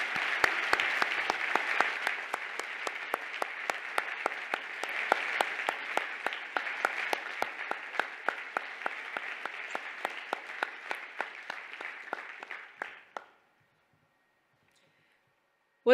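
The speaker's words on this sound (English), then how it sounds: "Please join us in giving all of these people a huge round of applause." Steady crowd applause at a commencement ceremony, dense clapping with sharper individual claps, continuing for about thirteen seconds before cutting off into near silence.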